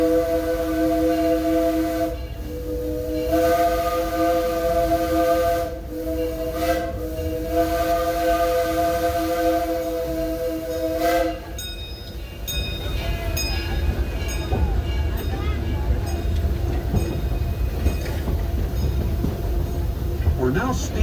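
Disneyland Railroad 3 ft narrow-gauge steam train sounding a jingle bell whistle in long sustained harmonic blasts with brief gaps, then chuffing, hissing and rumbling along the track, with faint background voices.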